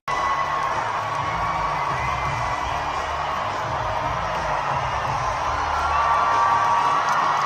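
A live studio audience cheers and whoops loudly, a steady wall of crowd noise with shouts and hollers sustained throughout, no talk over it.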